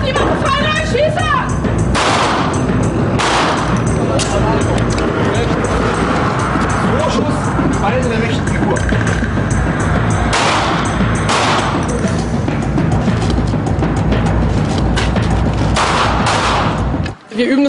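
Rapid bursts of gunfire crack continuously at close range at a police shooting range, dense overlapping shots with brief pauses between volleys, echoing outdoors.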